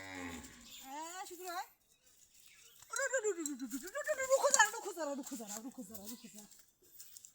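A calf moos several times in drawn-out, wavering calls, close and fairly loud, with short pauses between cries.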